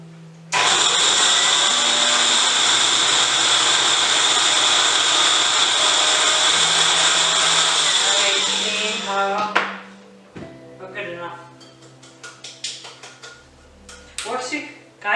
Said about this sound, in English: So the rosemary is a little harder to grind up because it's been dried